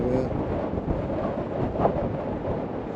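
Wind buffeting a microphone beside a lake, a continuous low rumbling roar with no talk, steady and close throughout.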